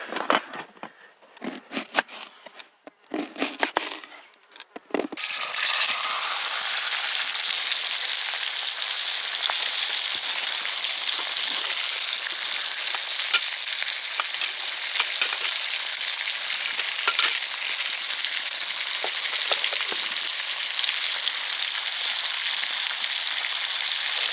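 Butter sizzles steadily in a frying pan on a camp stove high in the mountains, a dense, even crackle that holds for about twenty seconds after a few brief clatters of handling at the start.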